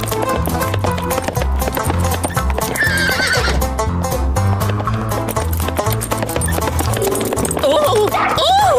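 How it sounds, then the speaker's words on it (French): A horse whinnies and its hooves clip-clop at a gallop in a French children's cartoon scene, loud over a busy music score, with voices talking throughout. "Monsieur Martin veut garder son cheval pour lui tout seul."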